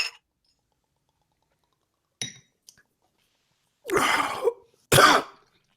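A few faint clinks, then two loud harsh coughs close by after a drink, the second sharp and short, with quiet gaps between.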